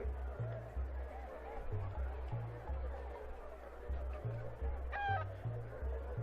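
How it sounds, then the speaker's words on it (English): Low, repeated clucks from a chicken in the video game Secret of Evermore, in a choppy electronic rhythm, with a brief higher squawk partway through, all fairly quiet. "if you quote-unquote talk to a chicken, it makes sounds"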